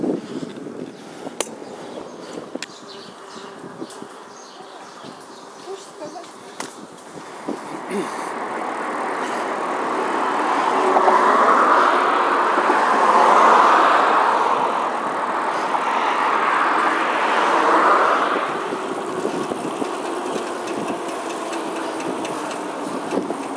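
A car drives through town, its engine and road noise building to a steady loud rumble that swells and eases over about twenty seconds, with no talk.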